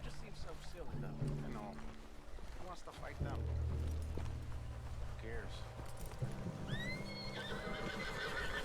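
A horse in the video game Red Dead Redemption 2 whinnies and snorts amid clip-clopping hooves and rustling movement, with other game sounds and a voice in the mix.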